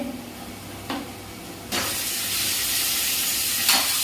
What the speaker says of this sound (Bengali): এখন মশলাটাকে বেশ করে কষিয়ে দেবো তেলের মধ্যে ওকে এবার মাটনগুলি দিয়ে দেবো এক এক করে